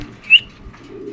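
Fancy pigeons, foreign racer and beauty homer types, cooing: one brief, soft coo with a faint chirp-like note, close by and short.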